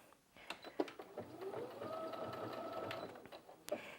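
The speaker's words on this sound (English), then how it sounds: "let's try the triple stretch stitch and see how that performs on this fabric" A Brother Innov-is F560 sewing machine runs a triple stretch stitch on fabric, a close, steady mechanical whirr with a rising motor tone, framed by a few sharp clicks at the start and end, with no talking.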